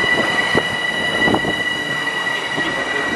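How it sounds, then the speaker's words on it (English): A Metro-North commuter train bound for Grand Central idles at a platform with a steady mechanical hum and high whine, a few soft clanks and thumps breaking through the drone. "Oh, Grand Central bound train."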